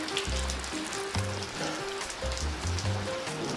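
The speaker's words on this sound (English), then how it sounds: "What a beautiful rainfall." Afternoon rain falls steadily, a soft continuous patter and hiss with scattered drips close by, fairly quiet and with no voices over it.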